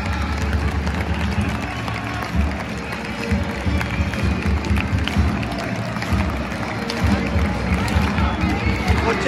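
A huge crowd of football ultras, the Green Brigade among them, roars at Celtic Park during a women's match between Celtic and Glasgow City. The cheering and chanting stay loud and dense throughout, and talk is heard over it.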